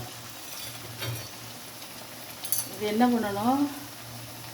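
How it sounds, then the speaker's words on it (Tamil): Puri frying in hot oil with oil spooned over it, a steady close sizzle that swells with bubbling bursts near the end while someone speaks over it. "எண்ணெய் அள்ளி அள்ளி அள்ளி அள்ளி இதில் ஊற்றணுங்க. அப்போ தான் வந்து பூரி வந்து வரும் மேலே"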